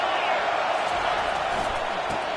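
Steady roar of a packed stadium crowd at an FSU versus Florida Gators college football game, a dense continuous wash of voices and cheering with no breaks, loud and enveloping throughout.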